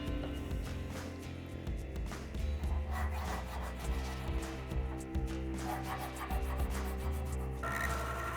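Filing burrs off a cut hex piece of metal for pipe making, steady rasping back-and-forth strokes close up over a low workshop hum, no speech.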